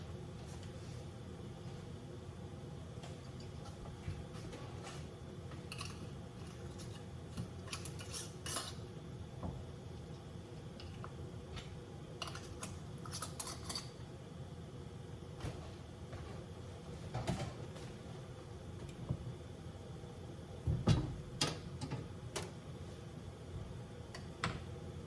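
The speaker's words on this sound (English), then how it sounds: "I'm ready to get lids on these. Lids and rings, and get them in the canner." Metal lids and rings set on glass jars of cranberry vanilla jam, faint scattered clinks and taps at an irregular pace in a quiet kitchen with a low background hum.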